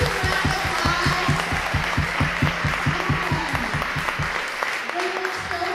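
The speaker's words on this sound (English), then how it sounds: "can we give Leanne and Ken and Stephanie a huge round of applause?" An audience applauds at a gathering, a dense wash of clapping laid over a steady, pulsing low rhythm like background music, holding at an even level for several seconds.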